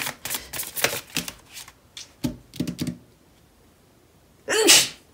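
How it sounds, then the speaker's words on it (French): Soft rustling and tapping sounds precede a single sharp, loud sneeze near the end. "Je vais éternuer, j'ai le nez qui me pique."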